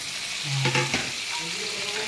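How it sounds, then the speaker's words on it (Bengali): Potatoes and pointed gourd fry in a pan for a home-cooked dish, with a steady soft sizzle and brief stirring scrapes near the middle, close and moderately loud. "আলু আর পটলটাও খুব সুন্দর ভাজা হয়েছে"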